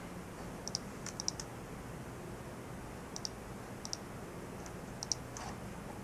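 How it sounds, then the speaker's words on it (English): A handful of faint, sharp computer mouse clicks come in small clusters over a quiet room hiss, close and dry, with no one speaking. "I'm going to right click on it"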